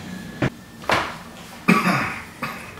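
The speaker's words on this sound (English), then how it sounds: "let it just keep coughing" Several sharp coughs in a row, spaced irregularly, close to the microphone with a brief raspy tail after one of them.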